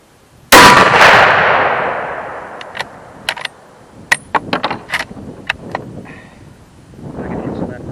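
An 8mm Mauser rifle fired with iron sights on an outdoor range: one sharp, loud shot rings out near the start, followed by scattered metallic clinks and clatter, with voices talking later.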